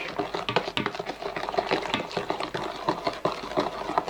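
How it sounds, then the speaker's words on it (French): Cupcake batter being stirred by hand as melted butter is folded in, with busy scraping and clinking of a utensil against a bowl running steadily throughout. "on va incorporer délicatement le beurre fondu"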